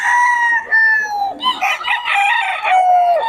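Sweater gamefowl roosters at a bird sale crow repeatedly and loudly up close, long drawn calls broken by a burst of clucking in the middle.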